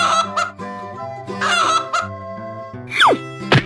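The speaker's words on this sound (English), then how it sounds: "Chicken." A chicken clucks and squawks in a series of loud, close calls, followed by a sliding whistle-like effect toward the end.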